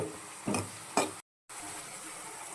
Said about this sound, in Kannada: ಸಾಲ್ಟ್, ಈರುಳ್ಳಿನ ಒಂದು 5 ಮಿನಿಟ್ಸ್ ಫ್ರೈ ಮಾಡ್ಕೋಬೇಕು.